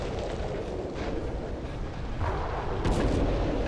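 Gunfire in the video game Call of Cthulhu: Dark Corners of the Earth comes as heavy, booming blasts blended into a dense, continuous rumble, loud and close.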